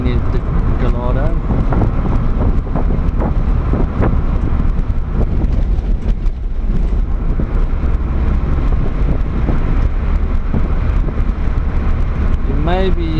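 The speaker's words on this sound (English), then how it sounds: "You may be hearing or noticing that it's quite a firm ride. You may hear one or two bumps." Inside a car on a firm ride, a constant loud road rumble and wind roar fill the cabin, with occasional thumps from bumps and someone talking over the noise.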